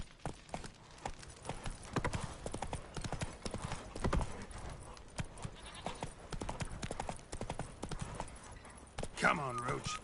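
Rhythmic clip-clop of Geralt's horse Roach galloping in The Witcher 3, steady hoofbeats throughout with a brief whinny near the end, under game music and a man's spoken lines.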